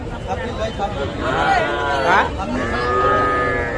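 Small calves, young bulls and heifers at a busy cattle market let out several drawn-out, wavering moos close by, over a steady murmur of crowd noise.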